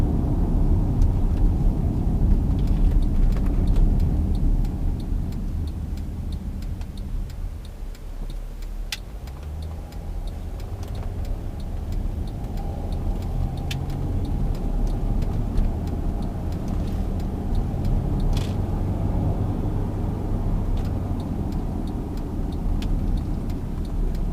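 A 2010 Mercedes-Benz ML350 CDI diesel SUV pulls away in drive with a steady low engine drone and road rumble from inside the cabin, continuous and fairly loud throughout, with faint ticking clicks on top.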